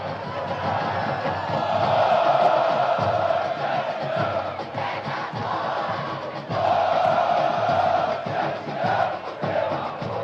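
Football supporters of Ponte Preta chanting in unison throughout a Brazilian Série C stadium match against Londrina, a loud sustained crowd roar with rhythmic swells rising and falling across the stands.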